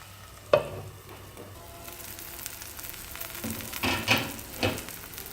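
Brinjal pieces fry over medium heat in a pan for a dry stir-fry, giving a soft, steady sizzle broken by a few louder scraping stirs of the spatula.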